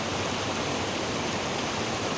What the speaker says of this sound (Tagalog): Wow, ang ganda ng ilog.